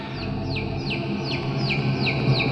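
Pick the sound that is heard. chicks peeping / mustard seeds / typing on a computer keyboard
chicks peeping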